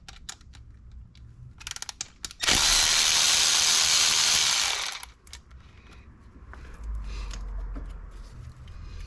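On a Maserati Ghibli, a tool undoes bolts on the intake manifold. Scattered clicks and clatter lead into a single loud, steady whirring run of about two and a half seconds, followed by a lower mechanical rumble.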